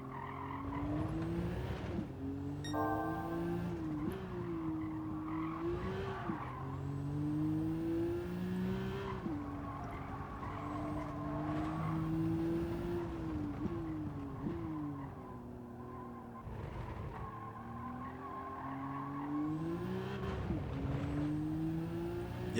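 Racing-game car engine revving and shifting through gears with tire squeal, a continuous loud drone rising and dropping in pitch over more than twenty seconds.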